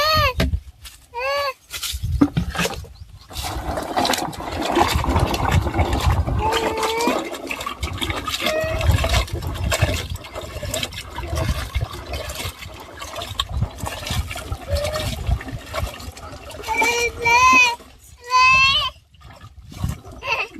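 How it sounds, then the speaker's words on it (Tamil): Water poured over freshly harvested small yam tubers in a village garden, a steady splashing and trickling that runs through most of the stretch, with goat-like bleats and people talking nearby. "தண்ணி ஊற்றி கழுவிக்கலாம்."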